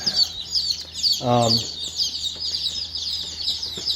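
Bantam chicks peep continuously and shrilly in a shipping box, a dense, close chorus of high calls, interrupted briefly by a short, low, buzzy sound.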